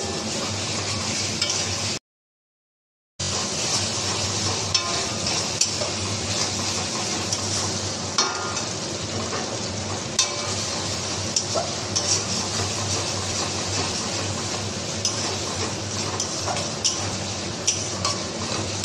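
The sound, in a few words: stirring and frying spice masala in pan for chicken khichdi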